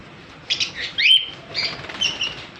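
Lutino cockatiels chirp and flutter in a few short, bright calls and rustles, close and moderately loud over a quiet background.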